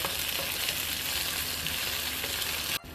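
Red and green chilies with sliced spring onion sizzle steadily in hot oil, a loud, dense frying hiss that holds throughout and cuts off abruptly near the end.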